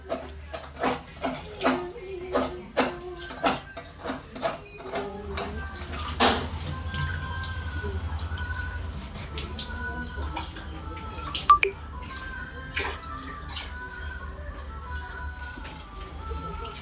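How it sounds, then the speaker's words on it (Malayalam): Leaves being washed under running water, with a series of rhythmic splashes and drips early on, then a steadier close stream of water flowing and trickling, with no talking. "ഇനി ഇല കഴുകുക"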